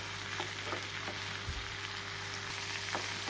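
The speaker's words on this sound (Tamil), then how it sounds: "நல்லா பச்சை வாசனை போக நல்லா வதக்கி விடுங்க." Vallarai (Indian pennywort) greens sautéing in a pan give a steady soft sizzle with light crackle throughout, occasional faint stirring scrapes, no talking.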